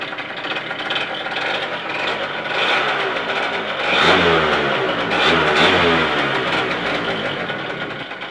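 A car engine, recently flooded with too much petrol, runs loud and close, rising into two swelling revs before settling back to a rough, throaty idle.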